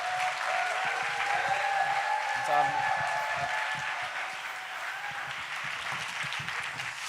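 A young adults' prayer meeting congregation at a church claps to greet the preacher coming forward, with steady, moderately soft applause running throughout, a few voices audible underneath.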